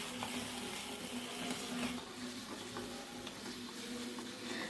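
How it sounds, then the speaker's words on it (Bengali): Mutton with sugar and dried chilli powder is stirred and browned in a pan, giving a soft, steady sizzle with faint scraping, rather quiet, with no voices. "এবার আমি ভালো করে এটাকে নাড়াচাড়া করে ভালো করে কষিয়ে নেব"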